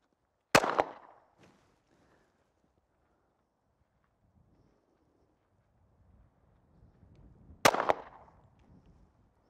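Two sharp, loud pistol shots fired at a 50-yard target from a standing offhand position on an outdoor range, spaced about seven seconds apart, each followed by a short decaying echo and faint background activity.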